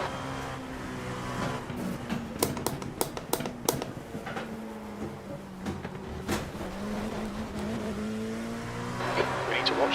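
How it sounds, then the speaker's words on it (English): An LMP2 prototype race car lapping Le Mans in the iRacing sim holds a steady, high engine drone with shifting pitch and sharp clicks scattered over it, while a voice talks quietly underneath. "I was hoping to carry a bit more speed through Indianapolis, but the car was just running wide"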